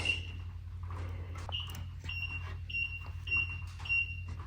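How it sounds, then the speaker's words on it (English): A high electronic oil pressure warning beep from a 1964 Ford Galaxie repeats in short, evenly spaced pulses over a steady low engine hum. "Let's see if the oil pressure beeps."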